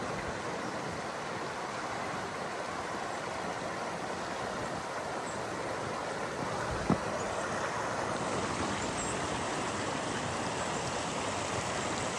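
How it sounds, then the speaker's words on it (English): Rapids on Chippewa Creek along a trail, a steady broadband rush of flowing water, loud and close, continuing unchanged for the whole stretch apart from one brief click. "A little bit of rapids going through the creek here."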